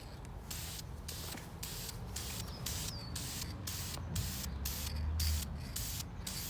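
Spray paint hisses in rapid bursts onto a Mazda 13B rotary engine block for an RX-7 build, the short sprays pulsing in a steady rhythm, close and fairly loud with no talking.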